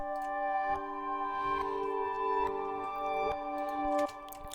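A sustained melodic sample plays a few held tones that change pitch, with a washed, echoing reverb tail filling the space between notes.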